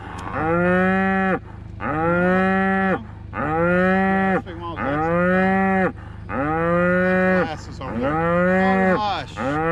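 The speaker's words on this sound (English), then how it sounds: "Baby cows are so dang cute." A cow moos loudly and repeatedly, six long drawn-out calls in a steady rhythm with short pauses between, close to the listener.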